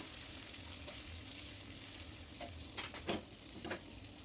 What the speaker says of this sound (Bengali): মাছের লেজগুলো সুন্দরভাবে মুচমুচে করে ভাজা হবে ঠিক সেই পর্যন্ত মাছের লেজগুলো ভেজে নিয়ে